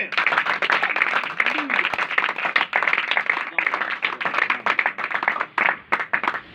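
A church congregation claps loudly together in sustained applause, dense and continuous throughout, with a slight dip near the end.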